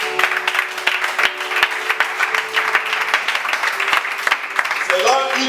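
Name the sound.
church congregation applauding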